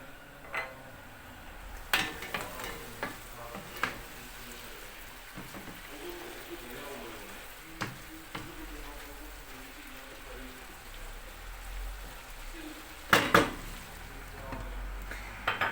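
Chicken and mushrooms sautéing in a pan for a curry cream sauce, a faint steady sizzle under occasional sharp clinks and scrapes of a utensil against the pan, louder near the end.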